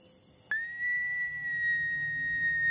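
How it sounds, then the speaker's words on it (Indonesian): A single long whistled tone begins suddenly after a brief quiet stretch and holds steady at a fairly high pitch, sounding thin and sustained as if from some distance. "Kayak ada yang siul."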